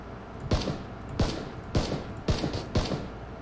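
Gunfire in the video game PUBG: five single heavy shots at a slow, fairly even pace, each a sharp crack with a booming tail, loud and close with no talk over them.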